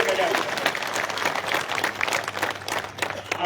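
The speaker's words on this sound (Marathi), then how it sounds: "सगळ्या सभासदांच्या वतीनं एकदा जोरात टाळ्या वाजून त्यांचं या ठिकाणी" Audience members at a cooperative sugar factory meeting break into loud, sustained applause, a dense wash of clapping from a large crowd that fills the hall without pause.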